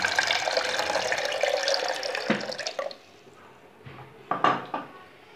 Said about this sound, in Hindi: पानी डालेंगे 2 गिलास के हिसाब से